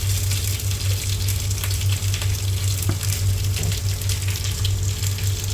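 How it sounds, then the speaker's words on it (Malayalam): Coconut oil poured into a hot pan, still coated from frying chicken, gives a steady, close, loud sizzling hiss with a constant low hum underneath and no talking. "പാത്രം ചൂടായിട്ടുണ്ടെങ്കിൽ നമ്മൾ ഇതിലേക്ക് ആവശ്യത്തിനുള്ള വെളിച്ചെണ്ണ ഒഴിച്ച് കൊടുക്കാം"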